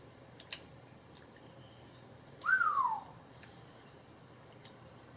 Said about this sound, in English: Exactly why I whistled.